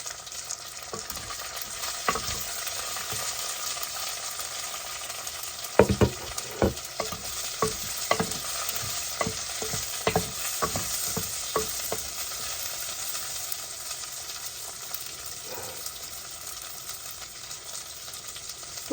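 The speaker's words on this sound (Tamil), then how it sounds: "இப்போ கொஞ்சம் மஞ்சள் தூளும் போட்டு வெங்காயத்தை வதக்கி கொள்வோம்" Onions with a little turmeric sautéing in a clay pot for fish curry, a steady sizzle under a quick run of stirring scrapes in the middle that later thins out; no speech.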